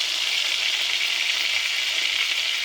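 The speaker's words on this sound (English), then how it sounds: "Let that bacon cook up some on the side." Bacon-wrapped sirloin steak frying in a pan, with a steady, close hiss and crackle of fat that holds evenly throughout with no voices.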